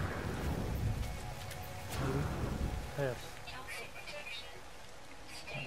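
Steady rain in the video game No Man's Sky, a continuous hiss of falling water with low rumbles, while someone speaks briefly over it.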